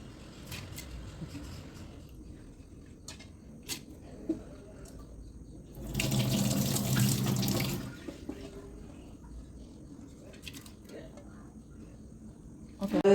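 Running water splashes into a sink for about two seconds as lentils are washed, amid otherwise quiet kitchen sounds, with faint birdsong in the background.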